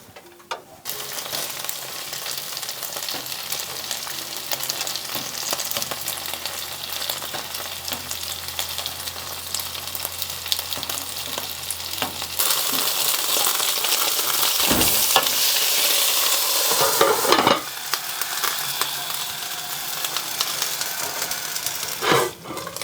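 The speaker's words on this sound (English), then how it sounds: "We're gonna fry up our wontons for about a minute per side" Wontons fry in olive oil in skillets over medium heat, giving a steady, loud crackling sizzle that continues throughout, growing brighter partway through, with occasional brief dips and stirring noises and no speech.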